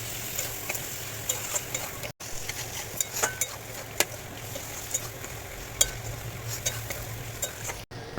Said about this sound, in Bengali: এবার মাটন ফ্যাটটাকেও আমি আলুর সাথে খুব ভালো করে একদম কষিয়ে নেবো।